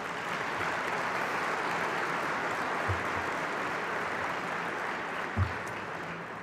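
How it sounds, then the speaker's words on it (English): Steady, fairly soft applause from a large audience at a business organization's annual meeting, an even wash of clapping with no clear peaks, heard from a distance throughout. "Please give them all a round of applause"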